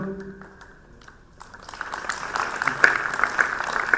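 After a quiet opening, clapping swells up from a seminar audience during an honouring of the chief guest, rising into a broad, sustained wash of applause that grows louder toward the end.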